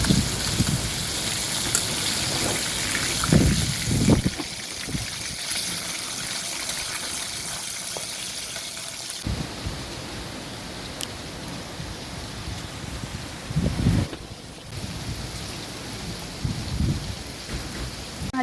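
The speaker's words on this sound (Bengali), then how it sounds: "এভাবে মাছগুলোকে উল্টে পাল্টে ভেজে নেব।" Katla fish pieces frying in hot mustard oil, a steady close crackling sizzle with occasional louder bursts and clatter as the pieces are turned in the pan.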